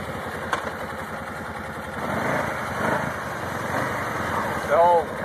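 A Kawasaki Prairie four-wheeler ATV engine runs at a steady idle close by, a low continuous rumble under people talking.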